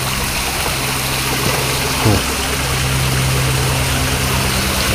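Water flows steadily in a stream beside a river near a traditional village. The rushing wash is constant and fairly close, with a faint low hum and a brief knock midway.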